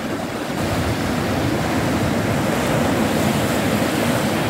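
Sea waves breaking on the shore at sunrise, a steady, loud, continuous rush of surf with some wind noise on the microphone throughout.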